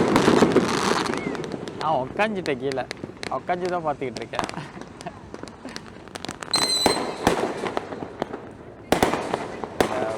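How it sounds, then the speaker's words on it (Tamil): Firecrackers and fireworks burst repeatedly at a Raya celebration, sharp cracks and crackles rising under and between steady talk from a person nearby, with louder bursts toward the end. "ஓ, பயங்கரமாக வெடிக்கிறாங்க."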